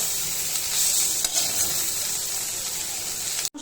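Spice masala frying and being stirred in a pan for a Bengali dish, a steady close sizzle with faint scraping that cuts off abruptly at the end, no speech.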